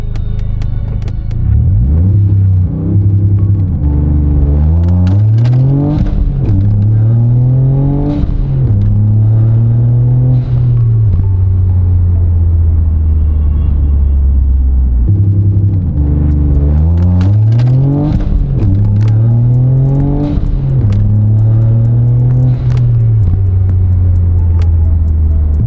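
A Toyota GR Yaris running an ECUtek tune on launch control: the engine is held at around 4,000 RPM, then revs in loud repeated rising sweeps that fall back to a steady idle, with a strong, close rumble throughout.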